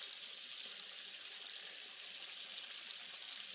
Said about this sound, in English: we're in essence deep frying these things